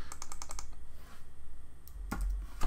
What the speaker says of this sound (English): If I want to type in a status, I click.